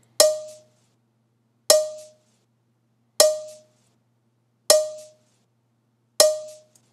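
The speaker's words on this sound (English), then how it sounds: "it's just my roommate hitting a pan" A metal kitchen pan is struck five times at an even, unhurried pace, each hit a sharp, bright, ringing clang that fades quickly, recorded up close in a kitchen for use as a snare sample.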